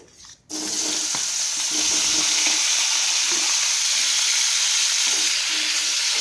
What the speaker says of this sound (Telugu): ఇప్పుడు అదే ఆయిల్లో టమాటా ముక్కలు వేసుకోవాలి.